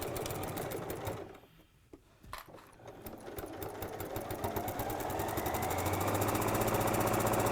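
A sewing machine stitches a 5/8 inch seam on shirt fabric, its fast even whirr running steadily, pausing briefly near the start, then resuming and building to a strong continuous drone.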